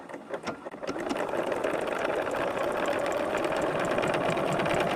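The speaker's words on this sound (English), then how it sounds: "First stitch on the Bernina." A Bernina sewing machine stitching fabric at a quarter-inch seam starts after a few soft handling clicks, then runs in a steady close mechanical whir.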